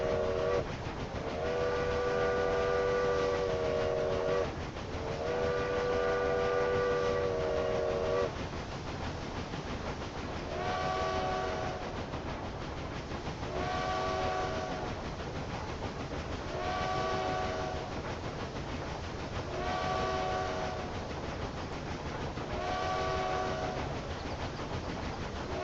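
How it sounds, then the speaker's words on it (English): Heavily loaded cargo train in the Railway Empire 2 video game, climbing uphill on tracks: a steady, loud rumble of wheels with repeated multi-tone horn blasts sounding at regular intervals over it. "So that cargo train with all its heavy load"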